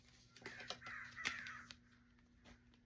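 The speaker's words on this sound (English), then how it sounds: "Y'all heard the crows?" Crows cawing outdoors, a few hoarse calls in quick succession followed by one more after a pause, faint and somewhat distant, with no talk.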